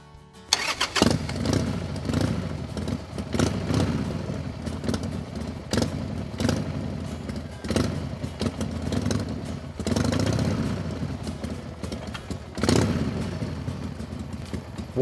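A motorcycle engine fires up and settles into a steady idle, loud and close, with sharp mechanical clatter and throttle blips punctuating the running engine.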